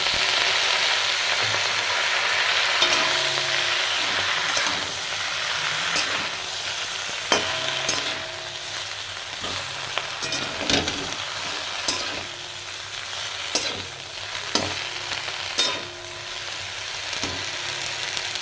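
Bottle gourd leaves fry in a pan with garlic and green chillies, a steady loud sizzle broken by sharp stirring clatters every few seconds, with no voices.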